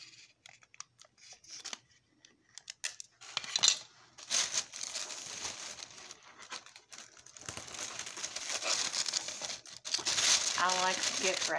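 Gift wrapping paper crinkles and rustles in bursts as it is folded and handled, with scattered crisp crackles growing denser and louder toward the end.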